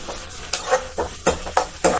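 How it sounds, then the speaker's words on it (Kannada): Sliced onions are added to hot oil with cinnamon, cloves and black pepper, giving a soft sizzle punctuated by several quick scraping stirs of a spatula in the pan, close and brief. "ಆಮೇಲೆ ಅದಕ್ಕೆ ಕಟ್ ಮಾಡಿಕೊಂಡಿರುವಂಥ 2 ಮೀಡಿಯಮ್ ಸೈಜ್ ಈರುಳ್ಳಿಯನ್ನು ಹಾಕಿ ಚೆನ್ನಾಗಿ ಫ್ರೈ"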